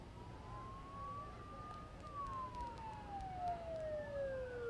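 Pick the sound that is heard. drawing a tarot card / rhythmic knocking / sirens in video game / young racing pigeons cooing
sirens in video game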